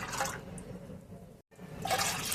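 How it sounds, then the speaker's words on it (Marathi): Wheat starch water poured into a second cooking pot while making jowar papad, a short close splash and gush of liquid, a brief pause, then a second pour, with no talking. "दुसऱ्या पातेल्यामध्ये तर मी हे चिकाचं पाणी घेत आहे"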